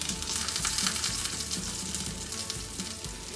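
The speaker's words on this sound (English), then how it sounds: "put my patties, and I'll cook it in slow heat." Patties fry in a pan on slow heat with a soft, continuous crackling sizzle, fairly quiet and steady throughout with no voices.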